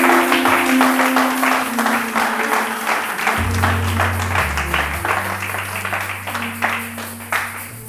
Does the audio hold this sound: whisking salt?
no